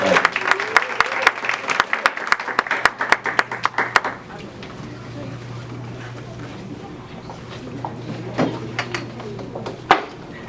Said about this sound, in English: Clap it up for Angie James.